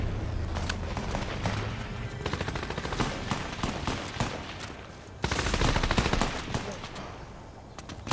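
Rapid automatic gunfire in Fortnite crackles in close, repeated bursts, growing louder and denser partway through.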